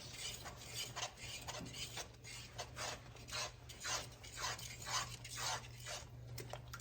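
A seasoning mixture with pepper flakes is mixed by hand in a bowl, giving repeated rhythmic rasping, rubbing strokes close by, steady and moderately loud with no talking.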